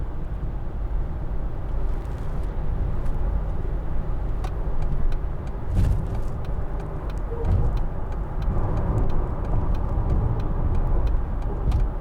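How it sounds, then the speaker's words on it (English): A Mercedes-Benz CLC200 CDI brakes down from 70, heard from inside the cabin as a steady low road and engine rumble with faint clicks, no one speaking. "We'll just do some braking from 70."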